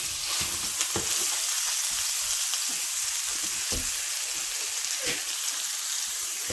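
Ground meat for chili mac and cheese frying in a too-hot pan, a continuous close hiss and crackle with occasional spatula taps and scrapes as the meat is broken up, no talking.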